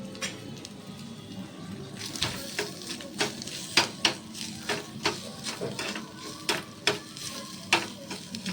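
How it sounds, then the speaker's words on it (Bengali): Grated coconut fries in a small tadka pan with a soft steady sizzle, while a spoon scrapes and stirs in sharp, irregular metallic taps close by. "নারকেলটা যেটা রয়েছে যেটা পরে দেবো সেটাকে একটুখানি ভেজে নেব"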